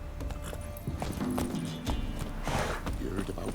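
Geralt's horse Roach in The Witcher 3 game clops along with rhythmic hoofbeats and gives a whinny partway through, close and clear, with a voice speaking over part of it.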